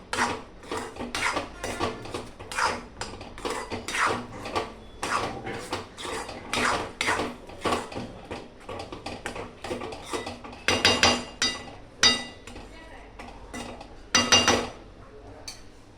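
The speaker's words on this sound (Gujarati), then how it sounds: "ઉપરથી આ કાજુ બદામ નાખી દેવાના અને આછું બધું મિક્સ કરી લેવાનું" A spoon stirs wheat sheera with cashews and almonds in a pan, giving a steady run of scraping, clinking strokes against the metal with no talking.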